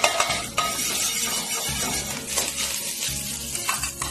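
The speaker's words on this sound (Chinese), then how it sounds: "看这猪油，用猪油炸一个辣椒" A chili fries in hot pork lard in a home kitchen, giving a steady crackling sizzle with scraping and stirring clatter from the pan throughout.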